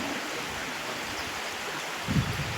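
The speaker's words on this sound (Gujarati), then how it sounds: "એટલું પાણી ચાલુ જ રહે" Water flows continuously at the Khodiyar temple, making a steady rushing wash that ends in one brief, louder low splash near the end.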